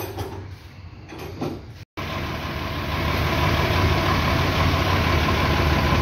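Mercedes MB 1621 diesel truck engine catching after a brief start attempt and settling into a steady, loud, rough idle, running cold with slight misfiring, close by.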